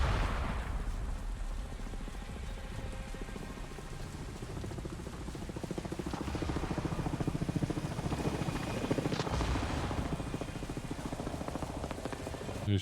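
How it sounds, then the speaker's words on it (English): A helicopter-like aircraft from the Avatar video game hovers with a constant low rotor thrum and a broad roaring wash, holding steady for several seconds at moderate loudness. "Those stupid helicopter things"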